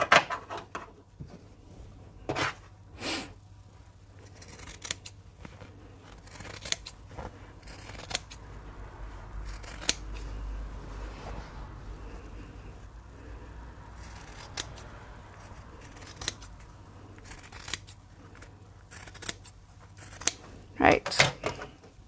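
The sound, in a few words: scissors trimming fabric sides of a pocket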